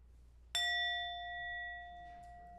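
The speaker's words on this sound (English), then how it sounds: "So I'm going to ring our bell" A single bell is struck once at a community gathering, giving a clear bright strike followed by a long ringing tone that slowly decays, close and alone with no voices.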